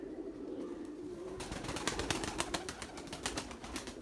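Young white Candir pigeons flying in a flock at evening in Izmir, with soft cooing and a dense flutter of wingbeats rising partway through, moderately close outdoors with no talking.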